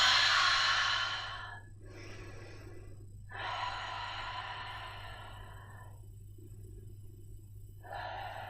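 Deep breaths during a Pilates session: a long loud exhale, then three slower breaths separated by silent pauses, close to the microphone and with nobody speaking.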